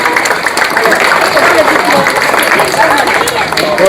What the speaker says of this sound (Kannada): ಎಲ್ಲರೂ ದಯವಿಟ್ಟು ಚಪ್ಪಾಳೆ ಹೊಡೆಯಿರಿ